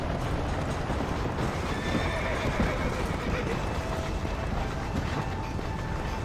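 In a video game, a horse whinnies over steady hoof clip-clop and a busy background of game sounds, with speech present.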